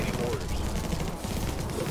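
Turrets in the alien-shooting game Infested Planet firing in a dense, steady rattle of rapid gunfire, loud and continuous with a voice speaking over it.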